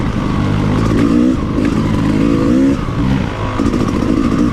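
A motorcycle engine revs hard on a dirt trail, loud and close, with repeated throttle surges rising and falling over a steady rough idle.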